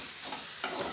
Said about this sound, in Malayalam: ഇഞ്ചി അടുത്തതായിട്ട് ഇഞ്ചിയാണ് ഇടാൻ പോകുന്നത്.